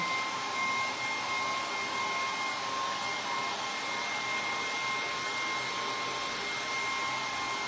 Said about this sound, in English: I'm trying to move the hairdryer away from the microphone so you can hear me